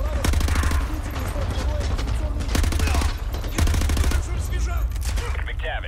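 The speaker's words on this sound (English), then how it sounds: "I was fucking shooting one of my teammates" Rapid automatic gunfire in Modern Warfare 2 Remastered, loud dense bursts of rattling shots firing almost continuously with short gaps, while a player talks over the shooting.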